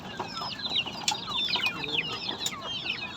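A hen clucking after laying an egg on a vehicle's engine, repeated close, insistent cackling calls in a quick uneven rhythm with no talk.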